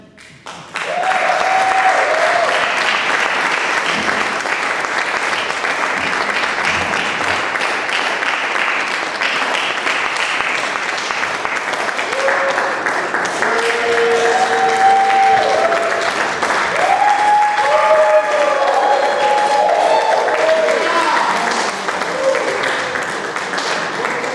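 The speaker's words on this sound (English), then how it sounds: "we have another round of applause for the beautiful cast?" An audience applauds a cast after a dramatic reading at a cultural event, sustained loud clapping for over twenty seconds, with a few voices calling out over it.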